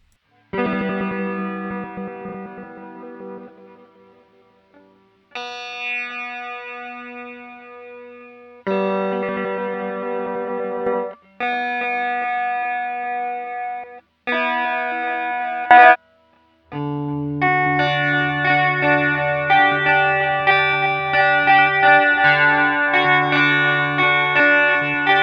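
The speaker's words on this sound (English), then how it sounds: "And the stereo delay pedal." Synthesizer tones played through a stereo delay pedal on a Zynthian V5 open source synthesizer workstation, with several sustained chords starting and stopping, then a fuller held chord with a low bass note, the repeats blurring the stops.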